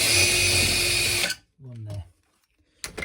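A masonry bit bores a pilot hole into a wall while a single power socket is swapped for a double: a loud, steady, high-pitched drilling whine for over a second that stops abruptly, followed by a brief voice and then quiet.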